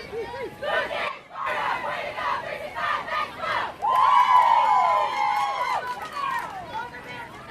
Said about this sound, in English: Sharks doing a championship cheer from the city of brotherly love.